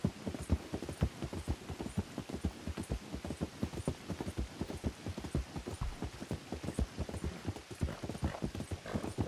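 Rapid, steady clip-clop of horse hooves galloping in the video game Red Dead Redemption 2, loud and continuous with a driving rhythm, no talking over it.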